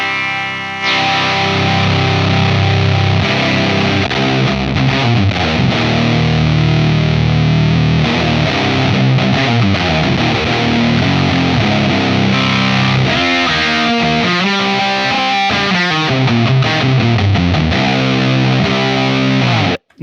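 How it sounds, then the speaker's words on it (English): Electric guitar played through a Zander Circuitry Cranium distortion pedal, loud saturated chords and riffs with a thick, fuzzy, heavily clipped tone ringing continuously before cutting off abruptly. "And then from there, you can add as much distortion as you want."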